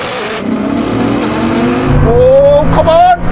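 A Koenigsegg Jesko and a Bugatti Chiron launch in a drag race, engines roaring loud and rising sharply in pitch as they accelerate, with excited voices talking over the noise.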